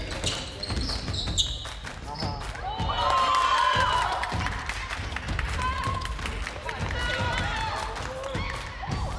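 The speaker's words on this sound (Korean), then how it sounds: "네, 박수 한번 주세요." Young players and others applaud at a school sports gathering, the clapping echoing in a large hall. It comes in uneven bursts, with cheering and voices talking over it.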